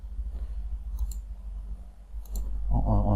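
A computer mouse clicks a couple of times at a desk while building a Power BI dashboard, short faint taps over a low hum before a louder rustle near the end.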